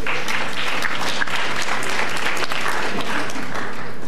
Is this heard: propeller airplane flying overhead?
no